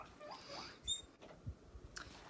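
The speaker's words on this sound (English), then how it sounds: "sorry for that little squeaky noise constantly. It's my guinea pig and he's very hungry" A hungry pet guinea pig squeaking indoors, a few faint high-pitched chirps and squeals with light pattering and rustling in an otherwise quiet room.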